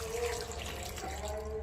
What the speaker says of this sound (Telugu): సో ఇప్పుడు వాటర్ పోసుకుందాం.